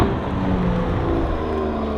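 Toyota MK5 Supra fitted with a full aftermarket exhaust, giving a loud, steady, deep exhaust drone throughout, close by with no talking.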